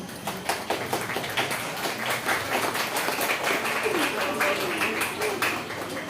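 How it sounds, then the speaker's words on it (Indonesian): Parents and students gathered at a school parenting event clap hands together, a steady, fairly soft wash of group clapping with voices murmuring throughout. "Bisa tepuk tangan dulu."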